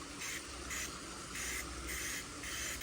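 Rapid bursts of spray paint from an aerosol can fitted with a trigger spray handle, used to color match a Silverado/Sierra tailgate cap, hissing in short repeated pulses at close range with no talk.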